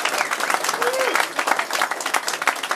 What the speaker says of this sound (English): Everyone, Pete, a round of applause for keeping music alive.